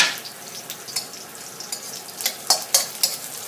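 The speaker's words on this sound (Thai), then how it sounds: "ผัดขิงนิดนึงนะคะให้มันหอมนะคะ จากนั้นก็ใส่พริกลงไปค่ะ" Ginger and chilli stir-fried in a pan for a canned-fish dish, a soft background sizzle punctuated by sharp utensil scrapes and clicks that grow more frequent toward the end, no speech.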